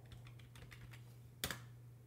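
Keystrokes on a computer keyboard while editing in vim, a quick run of light, soft taps followed by one sharper, louder press, set against a steady low hum.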